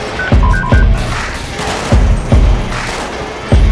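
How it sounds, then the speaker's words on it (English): Gunfire in a GTA 5 British police mod: five heavy, booming shots spaced irregularly over a few seconds, with a beeping tone near the start and a dense ambient background between them. "Shots fired. Shots fired."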